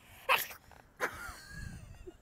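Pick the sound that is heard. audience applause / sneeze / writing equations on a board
sneeze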